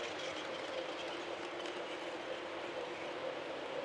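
A model train running on a club layout, a steady faint rolling clatter and whirr of small wheels on track, continuous and even throughout, with no one talking.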